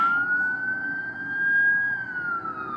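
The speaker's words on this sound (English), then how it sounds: "the sounds of a siren coming from outside" An emergency siren wails outdoors from a distance, a single drawn-out tone slowly rising and falling in pitch over a low background rumble, faint but clear and with no talking.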